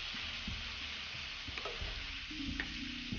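Liver (kaleji) fried in a pan and stirred, a steady dense sizzle under repeated scraping and clinking strokes of a spoon against the pan, close and continuous without pause.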